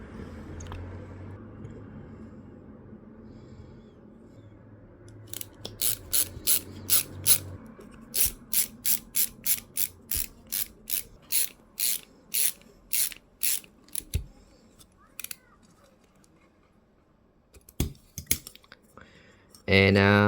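Screwdriver tightening a bolt on a 3D printer tool-head produces a run of crisp ratchet-like clicks, steady and close at first, then a few scattered ticks after a pause, with low background noise and no talk.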